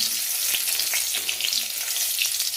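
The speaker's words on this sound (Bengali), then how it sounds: "পটল ভাজলে তেল তো কালো হবে" Pointed gourd (potol) frying in darkened oil, a dense, steady hiss of sizzling heard close up and alone, with faint crackles scattered throughout.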